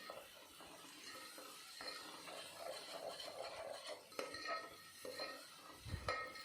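Masala with curry leaves being stirred in oil in a pot for mutton bone gravy, a spoon scraping and clinking against the metal pot in uneven strokes over a low sizzle, close and without talk.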